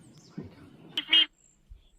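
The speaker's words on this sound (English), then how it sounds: "Oh, we got some duck visitors coming." Ducks at an animal sanctuary give a short, faint quack or two in a quiet outdoor setting, with soft rustling around them.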